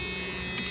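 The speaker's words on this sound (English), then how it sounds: "seatbelt buzzer works" A Jeep YJ seatbelt buzzer drones in one short, steady tone, faint against a low cabin hum.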